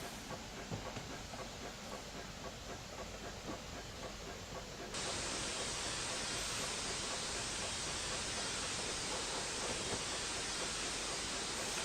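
A Black 5 steam locomotive rolling along the Whitby and Pickering heritage railway, a steady broad hiss and rumble of running gear that grows louder partway through and continues unbroken.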